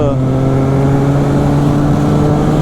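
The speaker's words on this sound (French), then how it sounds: "c'est surtout le bruit de la boîte à air hein, et de l'échappement de ce 3 cylindres" A three-cylinder Triumph Street Triple 660 S motorcycle engine runs loud and close, its exhaust and airbox giving a deep, steady throbbing drone with strong low harmonics.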